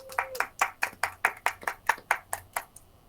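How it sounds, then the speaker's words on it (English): Steady clapping, about a dozen even claps from what sounds like one or a few people at a school district board meeting, close and fairly dry. "Let's hear a huge round of applause for Lynn Kai"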